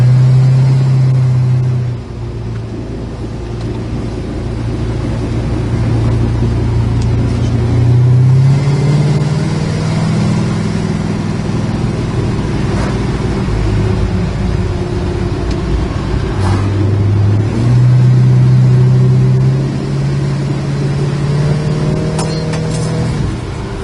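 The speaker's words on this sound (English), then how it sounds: "Car shifts, runs, drives just fine." A 1970 Dodge Coronet R/T V8 runs steadily while driving, its engine note rising and falling through gear shifts over nearly half a minute, loud and close with no talk.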